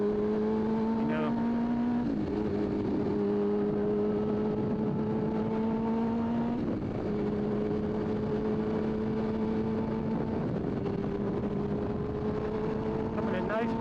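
A car engine revs hard toward redline, its loud, close drone climbing steadily in pitch with brief drops at each gear change before rising again.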